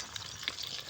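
Big tilapia fish frying in oil, a steady broad sizzle with a few brighter crackling pops, close and fairly quiet, with no talk.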